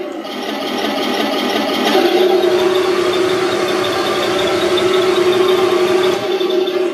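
A Heng Long 1:16 scale RC Tiger tank drives on, its electric motors whining steadily and loudly throughout, with a slight rise in pitch and strength after the first couple of seconds.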